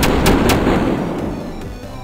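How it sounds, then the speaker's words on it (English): A fire attack hits in Epic Battle Fantasy 5, with loud booming blasts in quick succession at the start, then a rumbling burst that tails off. "so let's hit him with another fire move."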